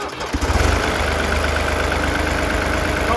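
Diesel engine of a Fiat Crawler tractor with a freshly fitted Bosch VE injection pump, catching after a brief start and settling into a loud, close, steady chugging idle.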